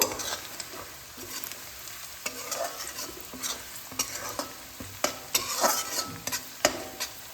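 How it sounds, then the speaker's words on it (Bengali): Slit green chillies frying with onions in a pan for a chicken curry, a steady close sizzle broken by repeated scraping stirs and clinks of the spatula, with no voices. "লঙ্কাটাও এর মধ্যে একটু ভাজা ভাজা করে নেব"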